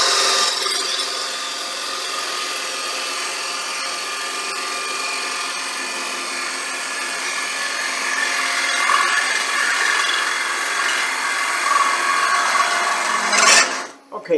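A gouge makes a sustained cut on a wooden bowl spinning on a lathe, giving a continuous close hiss and scrape that stays steady throughout and breaks off abruptly at the very end.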